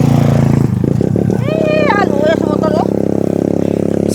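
A motorcycle rides along a rough road in Davao del Sur, its low engine rumble running steadily beneath a voice talking over it.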